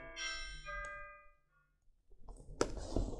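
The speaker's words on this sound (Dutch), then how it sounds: "jouw kerkklok begint gelijk al te luiden" A church bell rings out with bright, lingering partials that fade over a second or two, then give way to soft rustling and handling noise.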